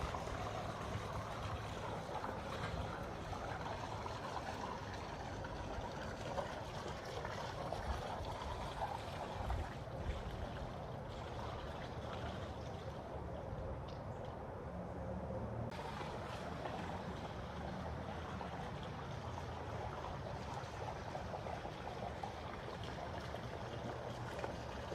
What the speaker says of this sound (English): the pump's on, so we're gonna let that work